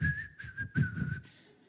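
A single person whistles a short, lively tune alone, close and clear, in a few quick phrases that fade out at the end.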